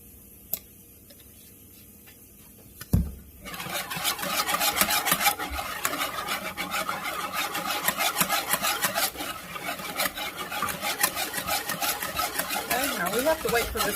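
Egg custard ingredients mixed in a bowl, starting with a couple of knocks and then settling into a steady, close, rhythmic scraping and whisking that keeps going to the end without talking.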